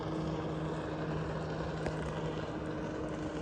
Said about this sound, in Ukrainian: Дивіться, які ці е, водний мотоцикл, стоячий.